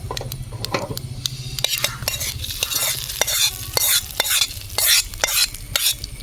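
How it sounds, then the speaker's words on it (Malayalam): Hot tempering stirred into a Kerala-style cucumber pachadi, a busy run of spoon scrapes and clinks against a metal vessel over a faint sizzle, close and fairly loud with a quick uneven rhythm. "വറവ് നമ്മുടെ പച്ചടിയിലേക്ക് ചേർത്തതിന് ശേഷം നല്ല രീതിയിൽ ഇളക്കി കൊടുക്കുക"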